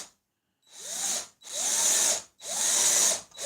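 A power drill drives oiled screws into wood in three long, loud bursts, each with a rising whine as the motor spins up, separated by short pauses and with no talking.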